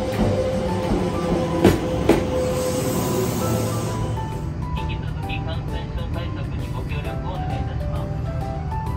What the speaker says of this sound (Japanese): まもなく、電車が到着します。